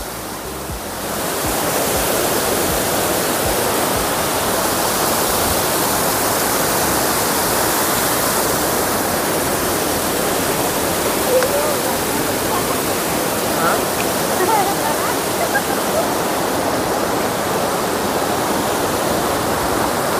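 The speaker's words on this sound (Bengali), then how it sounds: "ওই ঝর্ণার জলটা আসছে।" A rocky forest waterfall, its water rushing over stones in a dense, continuous roar that swells in after the first second and stays loud and steady throughout.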